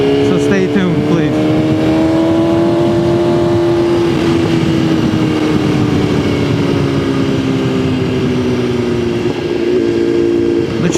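A 2020 BMW S1000RR M motorcycle fitted with a full Akrapovic GP exhaust cruises along the Delaware River, its steady engine drone holding close and loud with slow pitch shifts throughout, under constant wind rush.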